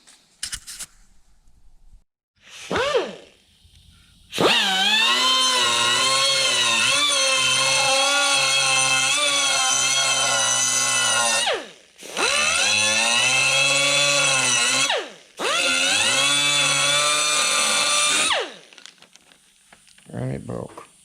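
An angle grinder works a welded crack on the cast handle of a 1930s Beverly shear during restoration, loud and sustained in three long bursts separated by short pauses, whining steadily with a few brief quieter sounds at the start and end.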